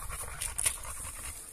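A female dog pants quickly and rhythmically at close range, a short burst of breathy huffs with no talking.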